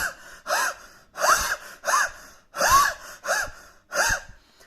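A man imitates a harsh, dry cough that sounds like a saw cutting wood, with seven rasping strokes in a regular back-and-forth rhythm, close and fairly loud.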